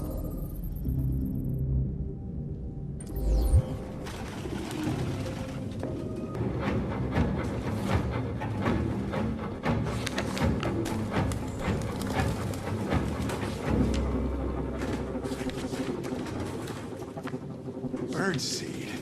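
Pigeons cooing in a cluttered apartment in the game Detroit Become Human, soft throaty coos and wing flutters scattered under voices talking, with a low thump early on.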